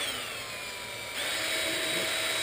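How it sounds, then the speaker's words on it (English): A power drill whines steadily close by, drilling holes in a plastic container, its pitch rising as it bites into the plastic partway through; no voices. "So we're just going to go ahead now and drill holes in this thing."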